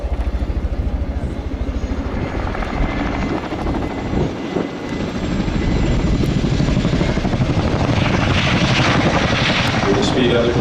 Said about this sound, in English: The Chinook is now expeditiously brought to the stop.